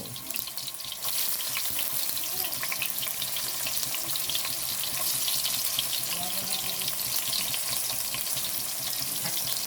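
Garlic sautés in hot oil for pakbet, a loud steady sizzle and crackle that flares up after the first second and keeps frying close by.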